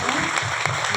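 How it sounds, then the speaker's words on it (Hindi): Audience in a hall meeting in Mumbai bursts into brief, steady applause, a dense wash of clapping filling the whole moment. "तो वेस्टेज के लिए एक जोरदार ताली।"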